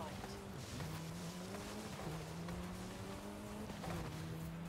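A Maserati racing in Forza Horizon 5, its engine droning steadily with rising and falling pitch as it accelerates and shifts, loud and continuous throughout.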